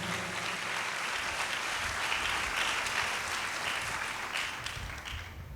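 A church congregation claps loudly together during worship, a dense, sustained burst of applause with no voices over it.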